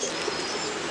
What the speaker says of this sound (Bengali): কবুতরগুলো নামাই দিতেছি কারণ বৃষ্টি অনেক বেড়ে গেছে